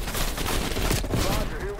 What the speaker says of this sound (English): There's a lot of friggin' firing.